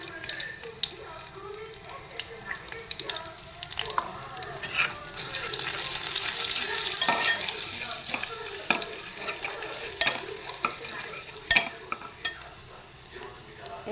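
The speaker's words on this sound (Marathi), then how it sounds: "कांदा थोडा लाल झाला की मग यात हिंग घालणार आहे." Onions fry in a pan on a gas stove while being cooked down for a Malvani-style fish curry: a steady sizzle with scraping stirs and brief running-tap water in the background.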